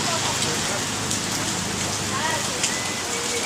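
Heavy rain pours steadily as a dense, continuous hiss, close and loud throughout, with scattered drips and patters on surfaces.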